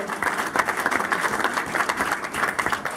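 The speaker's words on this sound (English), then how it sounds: "Give yourselves a big round of applause." Applause from an audience at an awards recognition event, a steady wash of many hands clapping that holds at an even level for the whole stretch, with no talk over it.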